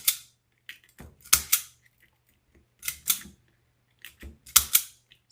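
Scissors snip pieces off artificial flowers for a black and gold flower wreath: crisp, close snaps come in small clusters of two or three, separated by brief pauses.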